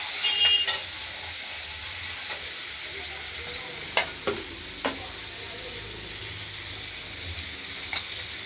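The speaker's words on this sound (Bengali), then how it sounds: "আমরা কুচিয়ে রাখা বাঁধাকপিগুলো দেবো। একটু নাড়াচাড়া করে নিয়ে" Chopped cabbage is stirred into frying potatoes and peas in a pan, a steady close sizzle with a few sharp spatula scrapes and knocks, no talk.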